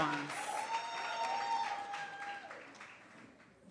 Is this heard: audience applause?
yes